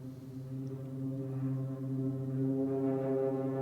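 A theme from the Little Nightmares II video game soundtrack plays as a low, sustained droning chord that swells gently and stays steady throughout, with no voices.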